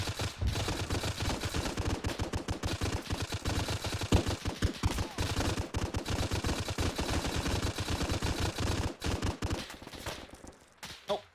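Sustained automatic fire from a Maxim machine gun in Arma 3, a dense rapid hammering of shots that runs loud and near with scattered heavier bursts, easing off only in the final second.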